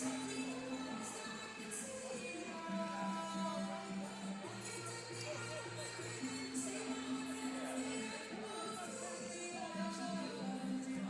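A basketball crowd at a men's college game, RCC vs CMCC, cheers after a three-pointer, with a steady roar of voices and shouts over arena music holding tones, heard at a distance and fairly faint.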